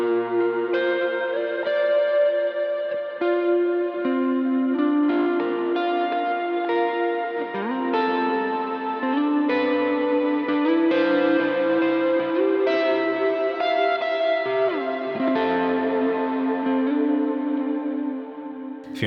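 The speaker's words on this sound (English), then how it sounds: "How about some big sky sounds? Some big sky stuff." An electric guitar played through an HX Stomp using Big Sky reverb effects: shimmering, layered notes and chords with long, washing tails that blur together, sustained and prominent throughout with no talking.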